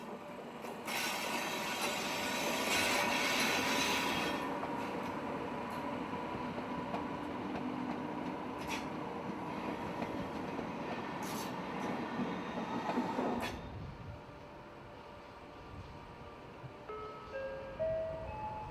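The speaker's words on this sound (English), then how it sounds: "The 1822 for Northampton departs Euston." A Class 90 locomotive hauls a train departing London Euston, a loud steady rumble of rolling stock that builds and then fades sharply, leaving quieter station ambience with faint high tones near the end.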